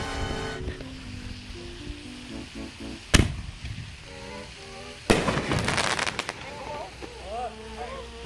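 Fireworks going off outdoors, with two sharp loud bangs followed by bursts of crackling, while people talk and exclaim throughout.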